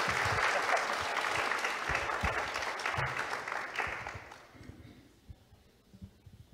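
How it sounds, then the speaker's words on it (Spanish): Applause from the audience at a university project presentation event, loud and dense at first, then thinning out and fading to a few scattered claps by the end. "darle un fuerte aplauso por este trabajo"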